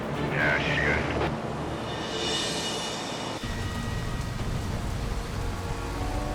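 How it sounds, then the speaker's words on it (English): Steady rain falls on a highway in British Columbia, a dense, even hiss of drops on wet pavement continuing throughout, with brief background sounds early on. "Back in the rain in BC"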